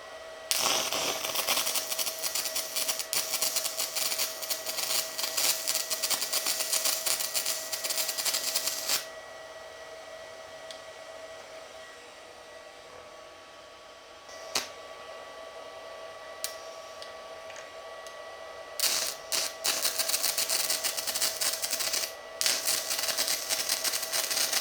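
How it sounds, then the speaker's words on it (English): A handheld drill-style stick welder runs its arc, a loud, rough, stuttery crackle holding steady for about nine seconds, then dropping quieter and later flaring back with sharp pops and bursts. "This welder has a really rough, stuttery arc, and it struggles to run pretty much any rod."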